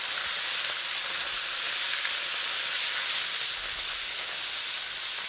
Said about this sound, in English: Get it nice and sizzling, and let's go ahead and add this wonderful whitetail venison